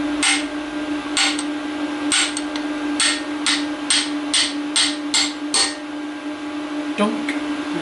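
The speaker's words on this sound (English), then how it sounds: "sprocket, which I'll obviously have to tap on, copper face, and use the brass drift" Copper-faced hammer striking a brass drift against a BSA B25 Starfire primary drive sprocket, a series of sharp metallic taps, close and loud at irregular intervals, over a steady background hum.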